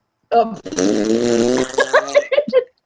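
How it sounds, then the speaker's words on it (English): A long, buzzy, drawn-out fart sound rumbles for over a second, followed by a few short spoken bursts. "Did you just fart?"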